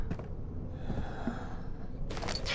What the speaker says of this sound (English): Stop breathing like that, Daniel!